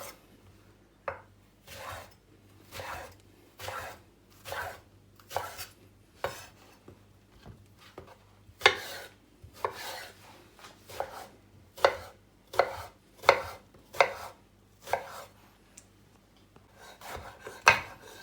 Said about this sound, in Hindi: क्यूब्स की शक्ल में हमने काट लिया है बैंगन को।